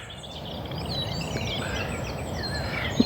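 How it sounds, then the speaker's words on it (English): Songbirds chirp and warble in a bluebell woodland in the morning, thin calls scattered over a steady outdoor hiss, fairly faint and distant, with no talking. "it's lovely to hear the birds singing this morning"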